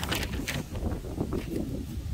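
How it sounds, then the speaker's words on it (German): Wind gusts blow across an open outdoor spot at Germany's easternmost point, a steady broadband rush with buffeting on the microphone, fairly loud and continuous with no talk. "hier kommt gerade ein bisschen Wind auf."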